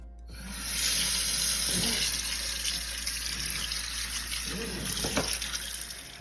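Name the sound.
meat rinsed under running tap water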